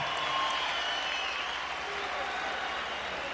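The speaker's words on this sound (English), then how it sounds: "how about a big round of applause for the effort out of these two warriors in the ring." A boxing arena crowd in Las Vegas, Nevada, after the Amir Khan vs Marcos Maidana bout, produces a steady, distant roar of applause and cheering, an even wash of noise with a few faint tonal sounds over it.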